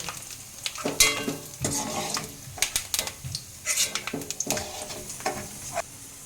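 Coconut pieces sizzle in hot oil in a pan for Kolkata-style ghugni, with repeated scraping stirs of a spatula and steady frying crackle, close and moderately loud without talk.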